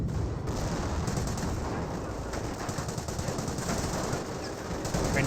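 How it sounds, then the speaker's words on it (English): Grenadiers fire during a Company of Heroes 1 battle between Wehrmacht and British forces, a dense, continuous rattle of gunfire that runs loud and unbroken throughout. "Grenadiers seem to fire there."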